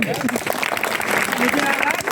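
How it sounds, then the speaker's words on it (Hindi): Audience at a business networking seminar in India clapping together, a steady patter of many hands that runs the whole time with voices mixed in. "अपने लिए ताली बजा लो।"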